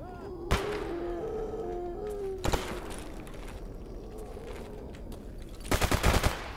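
Gunfire in Stalker Anomaly, a few sharp single shots spaced apart followed by a close rapid burst near the end, over quiet ambient background.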